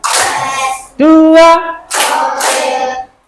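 A class of students claps hands on a count, with short dense bursts of clapping separated by a single voice calling out a number.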